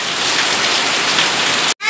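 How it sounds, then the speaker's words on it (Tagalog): Heavy rain pours down in a dense, loud, steady hiss close by, then cuts off abruptly near the end. "kasi ang lakas ng ulan ngayon"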